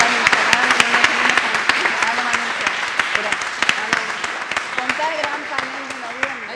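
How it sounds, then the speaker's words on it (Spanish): An audience at a university history panel breaks into strong applause, many hands clapping in a dense, sustained burst that fades slightly toward the end, with a voice speaking over part of it. "le pedimos un fuerte aplauso a los protagonistas también"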